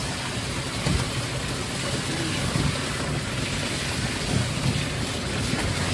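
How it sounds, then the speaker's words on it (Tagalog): Steady, dense rain pours down with a constant broadband hiss, loud and close, with no voices. "Lakas ng ulan dito mga guys."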